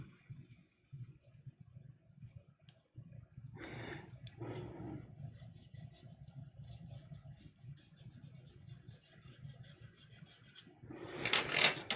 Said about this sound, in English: And then the final step will be to bring in the eraser.